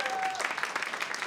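A podcast studio audience claps politely in response to an applause sign, a short burst of scattered hand claps after a brief tone, fairly close and moderately loud.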